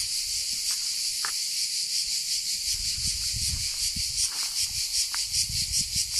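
Cicadas sing outdoors in a continuous, loud, high buzzing chorus that never lets up, while low rustling and soft footstep-like thumps come and go underneath.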